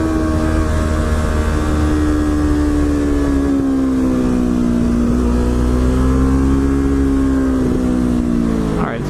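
Yamaha R3 motorcycle riding, a steady engine drone with pitch gently falling and rising as it runs, loud and close with wind noise.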